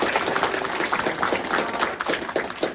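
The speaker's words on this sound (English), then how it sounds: "Please give a round of applause to Scott" Audience applause for a guest introduced at a Twin Peaks music panel, a steady patter of hand claps from a room crowd, fairly faint and even, with no talk over it.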